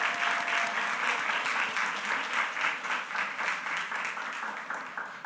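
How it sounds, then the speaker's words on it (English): Audience applause rings out for students at a school board meeting, steady and dense clapping throughout with a slight fade toward the end. "I need you to clap it up for your support system that's in this room"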